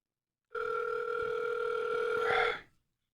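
Telephone line tone on a call back, a steady two-pitch dial or ringback tone holding for about two seconds, loud and close, with faint clicks underneath and no talking.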